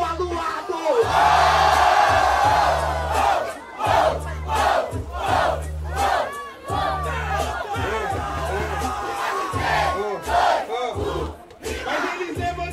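At a Brazilian street rap battle, a large crowd shouts and roars loudly and repeatedly over a thumping hip-hop beat, with bursts of cheering rising and falling throughout.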